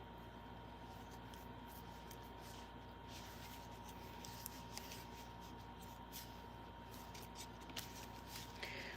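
A deck of playing cards being shuffled by hand, with faint, soft riffling and scattered light clicks of the cards, quiet and close, continuing for several seconds.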